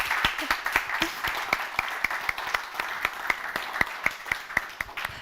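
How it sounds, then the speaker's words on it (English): A small audience at a creative conference claps steadily, individual hand claps standing out in a loose, fairly close rhythm throughout the short stretch. "applause, of course."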